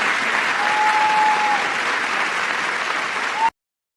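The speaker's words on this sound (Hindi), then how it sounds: "अमेरिकी राष्ट्रपति डोनाल्ड ट्रंप के लिए तालियां बज रही हैं" An audience applauds Donald Trump with loud, steady, dense clapping filling the space, broken by a brief whistle, then cutting off abruptly near the end.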